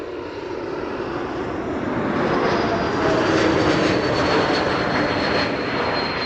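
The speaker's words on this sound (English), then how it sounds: "You can already hear by the whistle it has to be an A220 or an E2 Embraer." An Embraer 195 E2 airliner landing at Amsterdam Schiphol, its engines giving a steady, rising roar with a thin whistle on top, fairly near and swelling slightly as it passes, with no voices.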